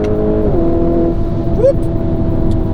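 A Lamborghini Urus SUV engine drones steadily and loud, rising in pitch in a brief rev partway through, with a person talking over it.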